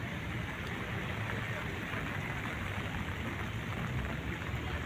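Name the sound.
rain falling on the camera at Burnham Park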